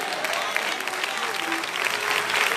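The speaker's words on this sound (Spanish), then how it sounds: "Ahí atrás, aplauso al Señor." A church congregation at a Spanish-language worship service claps together in praise, a steady, dense wash of applause filling the room from start to finish with a faint murmur of voices beneath it.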